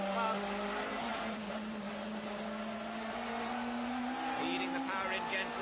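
Race car engine heard onboard with driver John Cleland heading down into the Vale, a steady droning note with a faint rising pitch, continuous and close, with some talk over it.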